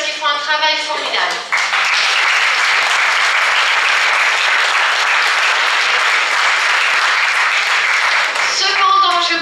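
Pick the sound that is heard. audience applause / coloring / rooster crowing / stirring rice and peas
audience applause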